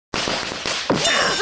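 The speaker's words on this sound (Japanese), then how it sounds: "どこから銃声が、まさか他に仲間が。" A burst of rapid gunfire cracks out loud and close, a fast string of sharp reports followed by a denser, ringing volley in a tense standoff between a hitman and kids.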